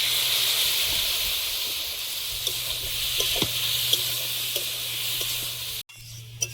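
Frying vegetables in a pan give off a continuous close hiss and sizzle once cumin paste is added, with scattered small pops and crackles. The sound ends with a brief handling knock.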